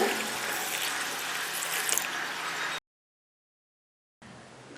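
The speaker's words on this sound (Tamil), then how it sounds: "இந்த அரிசியை நல்லா கழிஞ்சு ஒரு 2 மணி நேரம் ஊற வச்சுருங்க." Raw rice is washed in water with a continuous splashing, rushing wash that cuts to silence briefly and then resumes.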